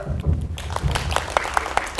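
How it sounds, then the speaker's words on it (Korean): A small group claps in a classroom during a teacher-training session, a short burst of close, uneven hand claps lasting a couple of seconds. "박수!"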